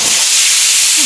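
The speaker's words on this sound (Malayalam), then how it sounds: "ഒരു വിസിൽ വന്നു, ഇനി സിമ്മിലേക്ക് മാറ്റുന്നു" A pressure cooker on the stove lets off its whistle while mutton biryani cooks: a loud, close, continuous rush of steam hissing with no voices.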